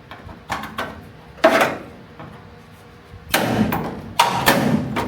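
A chisel pries up the floor of a classic car, producing a series of close, sharp metallic thumps and knocks, with bursts of scraping and a few quieter taps between them.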